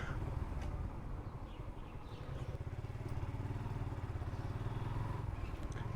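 A motorcycle engine idles and putters steadily nearby, a low throbbing rumble with light clatter over it.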